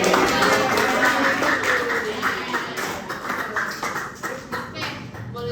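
An audience applauds at the close of a psychoeducation talk about managing overthinking, with steady, fairly close clapping from a group lasting several seconds, with some talk mixed in.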